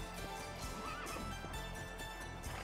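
A horse in the 2004 PS2 wrestling game Rumble Roses whinnies in a rising, wavering call, with clip-clop hoofbeats and faint background game sounds around it.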